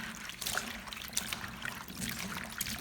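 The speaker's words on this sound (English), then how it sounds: "Continue rinsing once more with clean water." Sliced ginger is rinsed with clean water, a quiet trickling and splashing of water running over the pieces with soft irregular dribbles, no talking.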